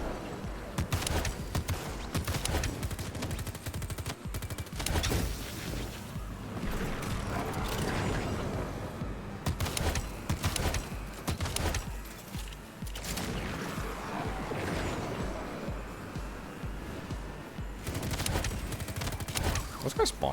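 Shotgun blasts and gunfire in the video game Metal Eden, coming as repeated loud bursts in irregular clusters over a dense, busy game soundscape with mechanical clatter.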